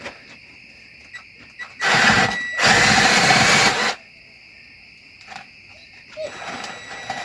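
A hand drill fitted with an eggbeater mixer paddle whirs through cement in two loud bursts of about two seconds each, with a brief pause between them, then stops.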